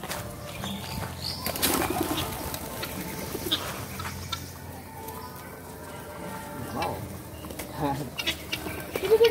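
A flock of pigeons flutters down to be fed corn at the Keraton Kasepuhan grounds in Cirebon, with bursts of flapping wings and soft cooing among scattered rustling, while people talk nearby.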